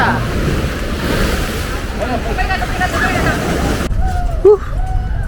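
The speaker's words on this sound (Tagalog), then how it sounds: "Lakas ng hangin." Steady, loud wind roaring across the microphone outdoors in Sydney, Australia, with broad rumbling noise, cutting out briefly near the end where faint voices come through.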